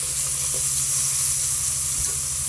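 Sweets fry in oil in a wok over a strong flame, giving a loud, constant sizzle with a faint bubbling rhythm underneath, close and uninterrupted, with nobody talking.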